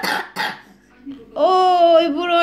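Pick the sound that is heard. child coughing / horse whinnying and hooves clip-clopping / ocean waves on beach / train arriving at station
child coughing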